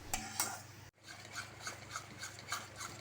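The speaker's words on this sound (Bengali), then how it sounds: "কিন্তু ভালো করে কষাতে লাগবে আর বারবার নাড়াতে লাগবে," Dhaba-style dum aloo masala is stirred in a pan in quick repeated rhythmic scrapes, a brief gap breaking the strokes before they resume at an even pace, fairly quiet and close.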